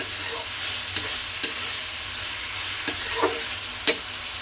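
Chicken pieces sizzle steadily in a hot pan for fried rice, a constant hiss broken by a few sharp pops and clicks.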